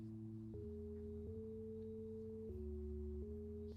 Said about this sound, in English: The sine wave is one of the fundamental waveforms, so get comfortable with it.